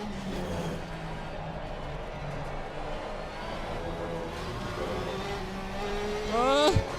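A race car engine in the racing game Assetto Corsa Competizione at Silverstone hums steadily at a mid-range pitch, then swells and climbs in a short rev near the end, fairly close and moderately loud.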